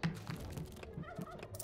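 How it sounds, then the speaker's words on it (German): A Schnatterling creature in the video game Dungeons III lets out a rapid, gobbling chatter of short clucking bursts in quick succession, close and fairly loud, with no voices over it. "Ein Schnatterling."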